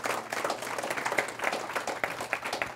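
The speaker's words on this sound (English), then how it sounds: "have another round of applause." An audience at a diversity and inclusion keynote claps in a brief, dense burst of applause that stays steady throughout.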